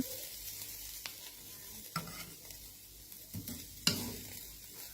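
A fish and egg mixture dry-roasted in a pan gives a soft, quiet sizzle with intermittent scraping and light knocks of a utensil against the pan, heard up close with no talking.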